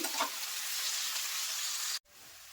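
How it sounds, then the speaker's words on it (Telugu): Chopped onions frying in a pan for mutton curry, a bright continuous sizzle heard up close with a brief stir at the start, cutting off abruptly near the end to near silence. "రెండు మీడియం సైజు ఆనియన్స్ తీసుకున్నానండి ఇలా ముక్కలుగా కట్ చేసుకుని దోరగా ఫ్రై చేసుకోవాలి"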